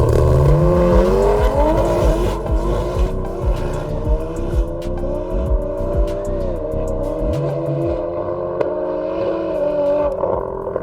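A turbocharged drag car with a big single turbo spins its wheels down the strip, a loud close engine roar with rising, shifting harmonics and gritty tyre squeal throughout.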